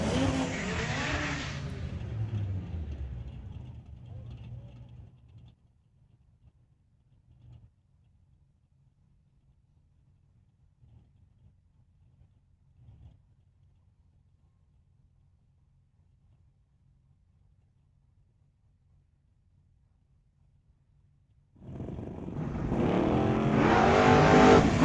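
Drag race between a 1973 Nova and a 2018 Audi at a raceway: loud engine roar at the launch fades quickly into a long stretch of faint distant engine noise, before another loud roaring vehicle surges close near the end.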